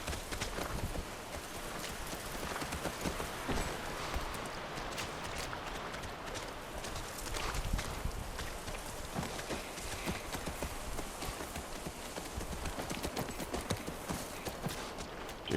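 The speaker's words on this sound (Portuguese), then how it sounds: "É o nosso cavalo, ela deve estar lá." Horse hooves clip-clopping steadily through a rural ranch area in the video game The Last of Us, a continuous, fairly close patter running the whole time with dense ambient noise and no talk.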